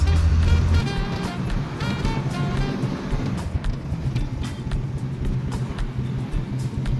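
A Volkswagen Golf 1 engine without a choke runs with the accelerator held down, giving a steady, close, rough engine drone that holds throughout.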